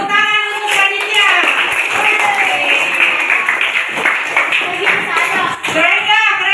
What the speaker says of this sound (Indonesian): Yuk tepuk tangan untuk panitia.